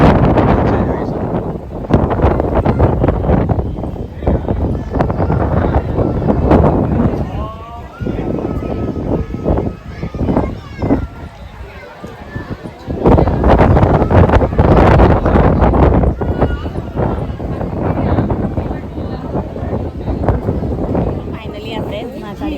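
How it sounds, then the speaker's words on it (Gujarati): Cold wind buffets the microphone at the Pawagadh hilltop near the Mahakali temple, loud gusty rumbles that rise and fall under people talking. "પવન બહુ જ ઠંડો ઠંડો આવે છે."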